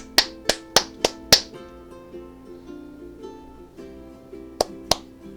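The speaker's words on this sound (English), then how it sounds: "Clap your hands for me." A person claps hands for a Jibo robot, five sharp, close claps in quick succession, a pause with faint electronic hum, then two more claps.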